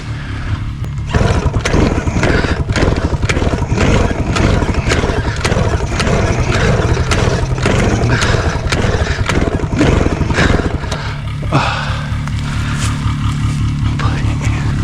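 A motorcycle engine idles close by in gear, a loud steady rumbling putter that pulses evenly and eases off slightly near the end.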